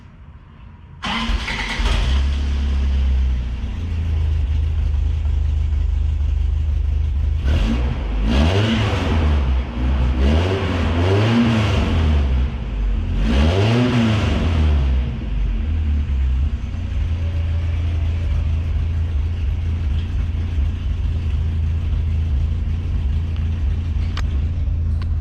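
A Toyota Land Cruiser FJ60 with a new muffler starts up and settles into a deep idle, then is revved several times in quick swelling bursts, the loud, close exhaust rumbling between blips before returning to a steady idle.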